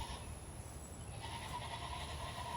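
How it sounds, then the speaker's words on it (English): An upset goat on a farm lets out drawn-out, wavering bleats, fairly faint against steady background noise and strongest in the second half. "You can hear our goat, Heidi."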